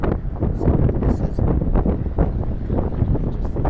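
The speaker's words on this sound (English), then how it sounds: "the wind is blowing because it's windy, so it's actually giving a cool breeze" Wind gusting across a microphone outdoors in a pineland park in Miramar, South Florida: a dense, steady low rumble and buffeting that holds for the whole stretch with no voices.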